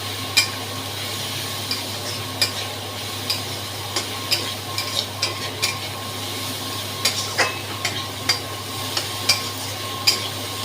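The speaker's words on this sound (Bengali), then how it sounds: "তেল বেশি করে দিয়ে ভাজতে হবে, ভাজাটায় কোনো কার্পণ্য চলবে না" Pointed gourd frying in plenty of oil, with a continuous bubbling sizzle and regular sharp taps of a spatula against the pan, fairly close and with no voices.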